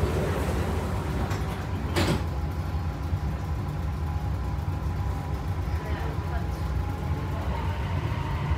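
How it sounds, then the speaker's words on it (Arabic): Sliding doors close aboard a metro train at Union station, a brief mechanical thud over the constant low rumble and hum of the carriage interior. "Doors closing."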